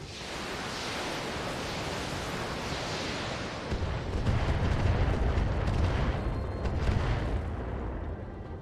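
Indirect-fire missiles launch from mechs in a video game with a dense, continuous roar of rushing noise that deepens into a heavier low rumble partway through, with no talking.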